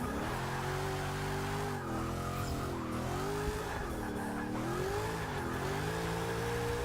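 A 1965 Mustang drifts in Forza Motorsport 6, its engine droning loud and continuous with wavering revs under steady, sustained tire squeal.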